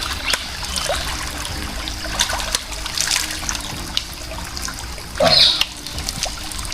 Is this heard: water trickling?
yes